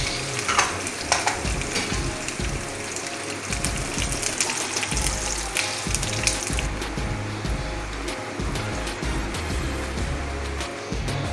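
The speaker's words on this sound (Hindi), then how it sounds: "अब मेरे पास ये चंद पत्ते जो हैं कटे हुए कड़ी पत्ते के हैं, ये आप इसमें शामिल करें।" Chopped curry leaves hit hot tempering oil for a lauki raita, giving a loud, steady sizzle and spatter throughout, with stirring noises on top and no voices.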